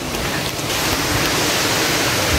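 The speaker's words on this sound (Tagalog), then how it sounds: "That's it. Nadsadan Falls." Nadsadjan Falls roars as a steady, loud broadband rush of falling water, constant and close with no pauses, and no voices over it.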